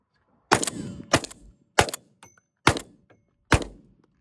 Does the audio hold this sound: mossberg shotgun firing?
yes